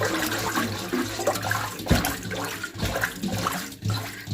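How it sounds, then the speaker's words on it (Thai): Small fish are swished by hand in a basin of salt water, a continuous close, loud sloshing and splashing with uneven surges. "ซาวด้วยน้ำเกลือเสร็จแล้วค่ะ เราก็จะนำเนื้อปลานะคะขึ้นมาเลยค่ะ"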